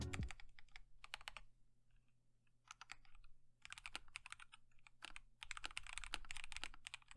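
Brisk typing on a 75% mechanical keyboard, close and crisp, with bursts of rapid clicky keystrokes separated by short pauses; a low hum underneath.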